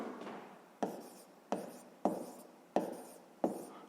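Hand writing with a pen on paper during a sixth-grade maths exercise, heard as five or six short scratchy strokes in a steady rhythm, close and fairly quiet, with no talking.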